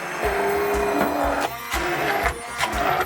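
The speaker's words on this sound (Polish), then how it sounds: "No i blenduję dalej na bardzo, bardzo gładką masę." A kitchen blender whirs loudly and steadily through chicken liver pâté with wine vinegar added, its motor pulsing in short rhythmic surges with a brief dip midway.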